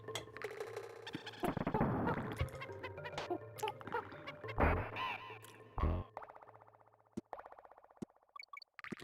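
Bird squawks from a video game, harsh, cawing cries that come in uneven bursts over clattering game sounds, followed by a run of quick repeated ticks as things settle.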